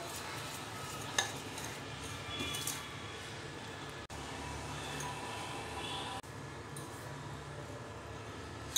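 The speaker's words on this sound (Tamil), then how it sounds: "இதை நல்லா மிக்ஸ் பண்ணி விடுங்க." Chocolate cookie dough with a pinch of salt being mixed in a bowl, a continuous soft scraping and squishing with occasional faint clinks.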